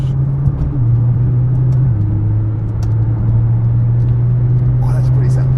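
A 2010 Nissan GT-R's engine drones steadily while driving, a loud, deep, continuous hum that shifts pitch slightly as speed changes, with faint road noise around it.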